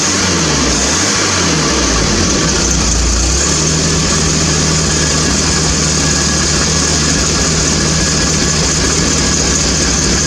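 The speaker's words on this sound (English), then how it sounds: "She does run lumpy when it's cold." A cold Triumph TR7 engine idles lumpily on choke, a close, loud, continuous low mechanical drone with uneven pulsing at the start before settling into a steadier hum.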